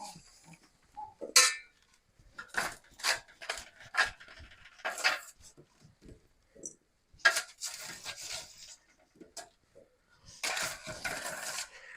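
A spatula scrapes roasted sheet-pan chicken and root vegetables off a pan into a mixing bowl, making irregular bursts of scraping and clattering with short quiet gaps between them.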